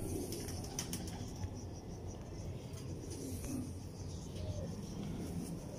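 Soft cooing of Salara teddy pigeons, a breeder pair, rises faintly over steady background noise, with someone talking nearby.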